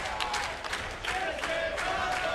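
A wrestling crowd at the Hard Justice 2006 pay-per-view cheers and applauds. A steady wash of clapping and voices swells in short bursts, filling the whole moment.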